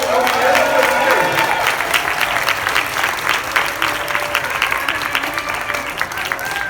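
A crowd at a state Democratic Party endorsing convention applauds and cheers loudly, with dense steady clapping, whistles and whoops rising over the hall, and voices mixed in.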